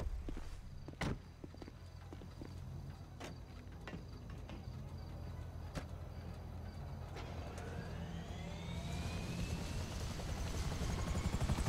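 Helicopter in the video game Grand Theft Auto 5, its rotor drone building steadily louder and closer, with scattered footsteps and clicks over the start and a rising whine near the end.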